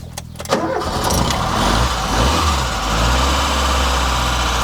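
A Ford Taunus engine cranks, catches and settles into a loud, close idle with a steady low rumble, running on after a recent valve cover gasket repair.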